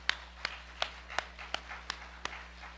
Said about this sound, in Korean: 하나님께 박수로 영광.